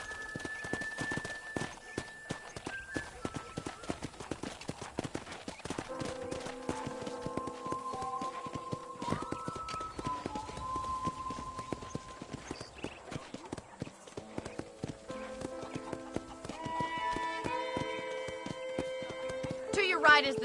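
Steady clip-clop of horse hooves walking at an even rhythm in the video game Red Dead Redemption, with a voice talking over it and light music playing in the background.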